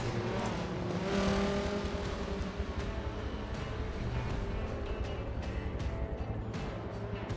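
Race car engines roar around Hockenheimring in Forza Motorsport 7, a dense continuous wash of revving and passing cars with a brief squeal of spinning rear wheels, steady and fairly loud throughout.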